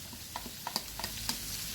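Onion goes into a pan after garlic for ginataang gabi, making a soft, fairly faint sizzle broken by several light clicks and scrapes of stirring; no voices.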